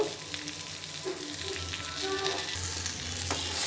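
Raw banana slices frying in a pan with a little chilli powder, giving a constant close sizzle with faint stirring scrapes and a brief clink near the end.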